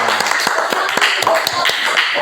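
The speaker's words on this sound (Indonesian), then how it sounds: "Tepuk tangan sama kawan kita." A classroom of students claps for a small student group, a brief burst of scattered, uneven hand claps close by, with faint voices mixed in.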